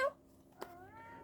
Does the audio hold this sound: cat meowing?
yes